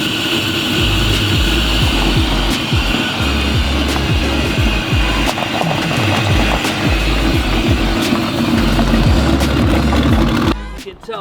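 A Camaro engine idles loudly and close in the cold with a steady low rumble, then cuts out abruptly near the end, leaving near silence.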